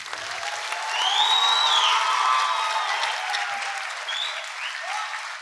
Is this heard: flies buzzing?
no